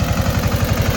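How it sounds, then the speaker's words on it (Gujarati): A tractor engine idles on a farm field where sorghum is being sown, a steady low, pulsing chug with rapid regular beats, loud and close with no one talking over it. "ટ્રેક્ટર આવી ગયું છે."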